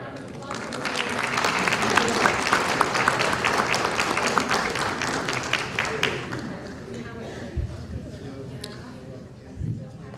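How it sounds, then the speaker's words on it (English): Applause fills a council chamber after a group photo, a broad sustained clatter of many hands that thins out toward the end, leaving a few scattered claps and murmuring voices. "Another round of applause."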